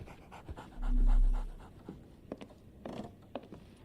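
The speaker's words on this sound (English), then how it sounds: "So, Barnes has a dog now." A dog panting in Sherlock Holmes The Awakened, quick rhythmic breaths close by with a brief low hum and small clicks and rustles around it.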